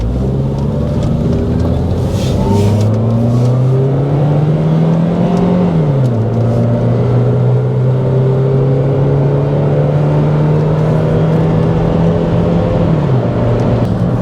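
2005 Toyota Corolla engine running on a test drive, a loud steady drone whose pitch climbs with acceleration, drops at a gear change, then holds and climbs again, with road noise underneath.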